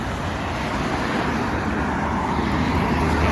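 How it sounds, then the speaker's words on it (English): Road traffic on a busy main road rumbles continuously and loudly, a dense, steady wash of passing vehicles with no talking. "I'm on the main road now, so it might be a little loud with traffic."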